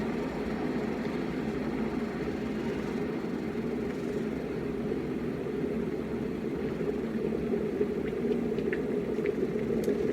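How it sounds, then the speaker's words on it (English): Steady rushing, bubbling roar of water coming to a boil, continuous and fairly close, with no voices. "So I'm waiting for the kettle to boil and now it's ready."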